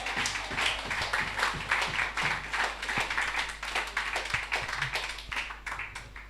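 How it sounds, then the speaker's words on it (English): Audience applause for Brother Bertrand John, political lead for St. Patrick's East, at an NNP zonal meeting in Gouyave: a steady, fairly quiet patter of many hands clapping throughout, with a low hum underneath. "Let's give him a round of applause."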